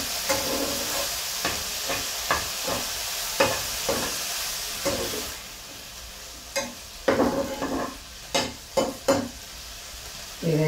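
Mint leaves and a few coriander sprigs fry in a pan for green mint chutney, giving a continuous sizzle with repeated stirring scrapes, loud at first, briefly quieter in the middle, then busy again, with no voices.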